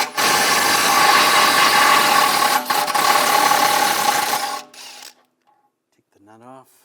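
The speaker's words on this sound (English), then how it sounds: "I'm going to use a 21mm socket and a 21mm wrench on the nut" A 21mm socket and wrench work the nut on the upper control arm bolt of a 2009-2017 Volkswagen Tiguan 2.0L, a loud steady mechanical ratcheting and grinding rasp lasting several seconds, then cutting off to brief clicks and a short voice.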